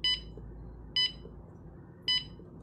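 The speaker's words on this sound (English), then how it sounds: "The door lock remains closed with indication of red light and a beep." An RFID and password door lock rejects a wrong password with three short, sharp electronic beeps evenly spaced about a second apart over faint room hum.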